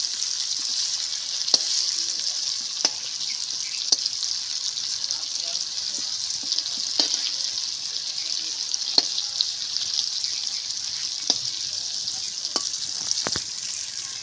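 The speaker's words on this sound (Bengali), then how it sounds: "ভালো করে আমি ভেজে নেব।" Chicken with fenugreek leaves fries in a pan with a continuous loud hissing sizzle, broken by occasional sharp pops and light utensil taps.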